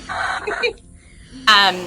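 A few short clucks and squawks from chickens close by, ending in a louder, sharper cackle.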